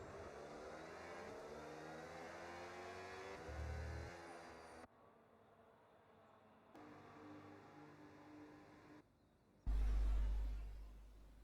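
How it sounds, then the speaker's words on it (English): Engines from F1 26 race cars heading back to the grid before the start: a steady mid-level car hum with shifting tones, brief cuts to quieter stretches, and a louder low rumble swelling near the end, no talk. "As the cars come back towards the grid to line up for the start of the race"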